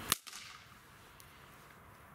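A pull-string party snapper fires one sharp, loud crack near the start, then fades into a quiet hiss of room noise with no talking.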